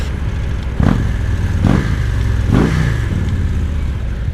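A Kawasaki ZX 1400R sports motorcycle engine rumbles steadily up close, with three sharp throttle blips rising and falling over the idle.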